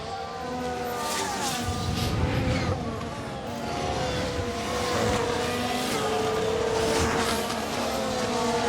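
Formula 1 race cars in F1 Manager 2022 drone steadily at full throttle, several engine tones overlapping as cars run close together, with whining gear shifts rising and falling throughout and no talk.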